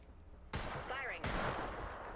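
Gunfire in a shooter video game: two sharp, loud broadband bursts about three-quarters of a second apart, each trailing off with a brief rumble, over a low, quiet background.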